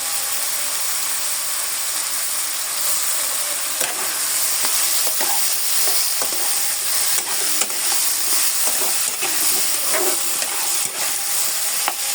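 Cauliflower fries with spices for a Bengali rohu fish and cauliflower curry: a constant close sizzle runs throughout, with scattered scraping and clicking as the pieces are stirred.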